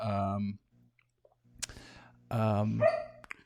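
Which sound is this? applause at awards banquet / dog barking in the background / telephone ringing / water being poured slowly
dog barking in the background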